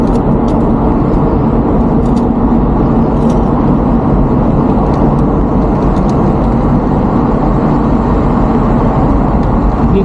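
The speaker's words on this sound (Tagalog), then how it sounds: "Dito nagdadaanan yung mga kotse" Steady road traffic rumbles along a street in Washington State, cars rolling past in a continuous broadband wash with no clear gaps, loud and close, alone with no talk.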